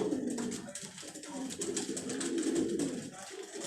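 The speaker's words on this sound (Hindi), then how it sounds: "बहुत ही ज़बरदस्त कबूतर है जी, माशाल्लाह से चेहरे काफ़ी का पुराना कबूतर है हमारे पास।" An old, prized pigeon on a Karachi rooftop coos in a low, throaty, rolling murmur that continues nearly without a break, close and clear.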